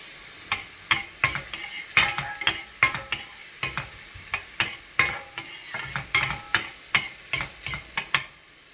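Garlic frying in hot cooking oil for a sautéed luffa dish, heard as a low sizzle broken by a steady run of sharp spatula-on-pan knocks and scrapes from close stirring, with no talking.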